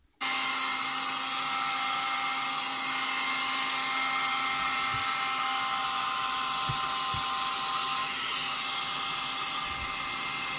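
A heat gun blows a steady, loud hiss with a faint whine, warming a plastic part of a homemade G4ZU 11 m antenna so a hose clamp can be tightened around it; a few light knocks sound during the continuous blast.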